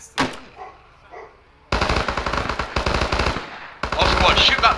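Automatic gunfire in the military shooter ArmA, a loud rapid burst of machine-gun fire starting after a quiet moment and continuing in sustained rattling volleys, up close.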